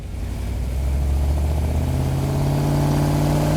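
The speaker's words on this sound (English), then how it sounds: "It's also kind of a cool shot because you can see that engine working down in there." A car engine hums and builds under load while driving, a steady loud drone with a rising tone toward the end, no speech over it.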